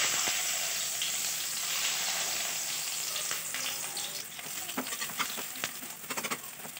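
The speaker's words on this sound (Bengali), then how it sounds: "পেঁয়াজগুলোকে হালকা করে ভেজে নেব।" Chopped onions fry in a pan for a Bengali-style matar ghugni, a steady close sizzle throughout with occasional crackles and spoon scrapes toward the end.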